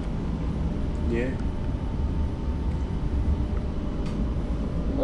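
A new light rail tram in testing runs through Newcastle Interchange, a steady low rumble and hum from on board, with a brief squeal, while people talk over it.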